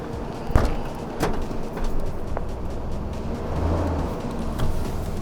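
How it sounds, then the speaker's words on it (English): A Ford F150 pickup moves slowly forward and then backward, its engine holding a low, quiet hum under a few sharp clunks and creaks, with no talking. "I'm gonna drive it forward and backward"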